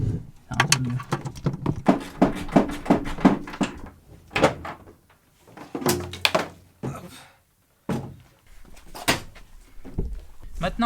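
A door is removed from a Renault 4L car, with a string of metallic knocks, clunks and thuds of varying loudness, close by, and someone speaking at times between them.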